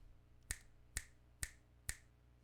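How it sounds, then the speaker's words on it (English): Four crisp finger snaps, evenly spaced about half a second apart, close and clear against a quiet background. "This is the sound of me snapping."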